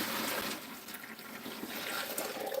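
Hot water pours steadily into a kitchen sink being filled for washing a big load of dishes, a continuous close rushing splash with no voices.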